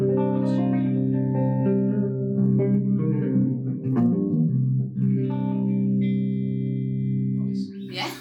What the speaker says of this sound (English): that's just the first channel on green, so we've got a clean setting there with some reverb